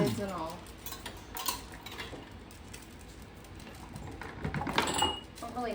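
Jar lids and metal pieces clink and clatter into a pot in a home kitchen while mayhaw jelly is being made, light scattered knocks and rattles at low level with soft background noise.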